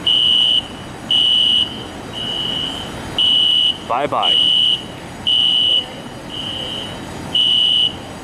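Fire alarms blare in a repeating pattern of short, piercing beeps at a steady rhythm, close and loud, broken once by a quick spoken word from someone nearby.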